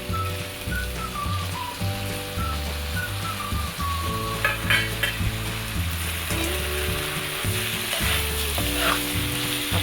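Cabbage and lentils crackle and sizzle while being stir-fried in a pan, with scraping stirs, over steady tonal music.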